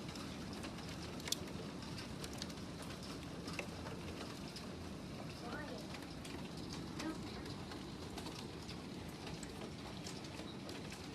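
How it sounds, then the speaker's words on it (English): Pea-sized hail falls in a steady, dense patter over the full stretch, with a few sharper ticks of ice hitting hard surfaces, loud and continuous, while voices can be heard faintly now and then. "This is hail."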